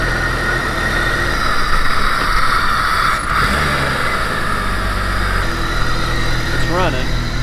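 A Norton Commando motorcycle engine runs steadily and loud throughout, a dense close mechanical rumble with slight shifts in pitch; faint speech sits under it.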